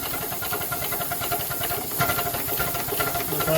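A 5-inch gauge live steam Dolgoch locomotive runs smoothly in forward gear, giving a continuous steady hiss over a soft rhythmic chuff and mechanical clatter, close by and without talk.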